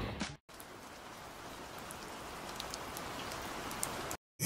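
Steady rain falls in a city center on a cold night, a constant even hiss of drops on surfaces that fills the scene with no voices, cutting off abruptly at the start and end.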